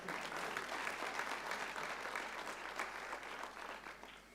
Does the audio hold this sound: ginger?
no